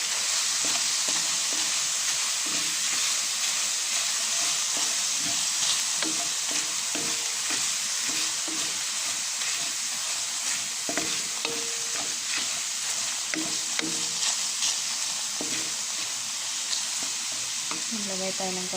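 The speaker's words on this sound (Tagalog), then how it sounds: "Haluin natin." String beans frying in a pan for adobong sitaw with black pepper, stirred steadily: a continuous loud sizzle broken by repeated scraping and clacking strokes of a utensil against the pan.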